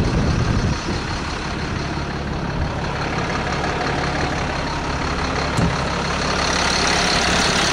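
A dump truck with a C7 engine idling close by, a loud, steady diesel rumble with a faint hiss midway and no voices.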